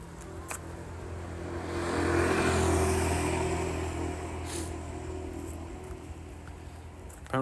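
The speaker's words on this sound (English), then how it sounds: "I don't know what vehicle passed me by that activated driving on." A road vehicle passes nearby outdoors: a broad engine and tyre rush swells over the first few seconds, peaks around the middle, then slowly fades into steady background hum.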